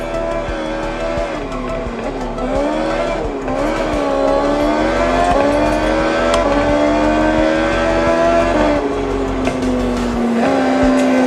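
Engine revving in the racing game Forza Horizon 6, with rising and falling harmonic engine notes, shifting pitch and tire squeal as the car drifts on pavement, loud and continuous.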